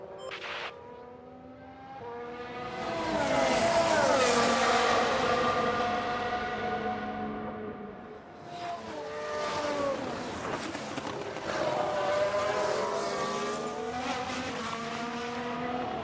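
An F1 race car on a fast out lap around Monaco in a racing video game, its engine screaming through rising gear changes, dipping briefly before climbing again, loud and continuous with no talk.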